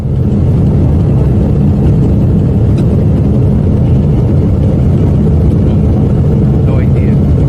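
An airplane engine on fire and rattling during a Denver flight: a loud, steady, low rumbling roar fills the clip without a break.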